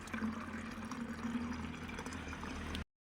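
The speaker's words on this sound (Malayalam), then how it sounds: "ഇതിനകത്ത് ഞാൻ 1 ലിറ്റർ വെള്ളം എടുക്കുകയാണ്" Water pours steadily into a small plastic garden sprayer, one liter, for a few seconds, a continuous gurgling splash that stops abruptly.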